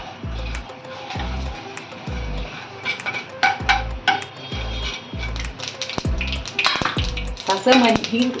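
Mustard seeds splutter in hot oil for a green chilli pickle, making rapid crackling pops that grow busier toward the end, over a steady series of low rhythmic thumps.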